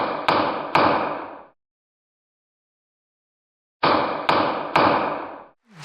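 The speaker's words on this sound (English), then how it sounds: "This is the sound of a gavel." A judge's gavel strikes wood in two close triple bursts separated by a few seconds of silence. The knocks are sharp, loud and near, each with a brief woody decay, and no one speaks.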